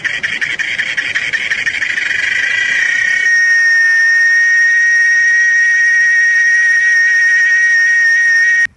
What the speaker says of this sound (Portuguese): e as cigarras que aparecem na primavera